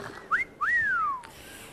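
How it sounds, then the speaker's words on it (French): A person whistles at a waiter in a restaurant: two short rising whistle notes, then a longer one that slides downward, clear and close, with no talking. "Ça se fait pas de siffler le client dans un restaurant"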